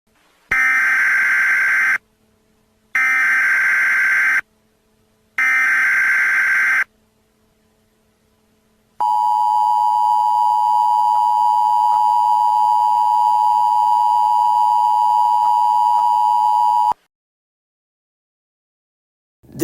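Emergency Alert System signals in a Super Mario Galaxy parody start with three loud, harsh digital data bursts separated by silence, then a long steady two-tone attention alarm drones for about eight seconds before cutting off.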